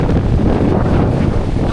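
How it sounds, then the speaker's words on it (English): Loud, continuous rumbling buffet of wind striking a microphone on the coast at Depoe Bay, Oregon, during king tides, dense low-end roar with no pauses. "But it's too windy for that."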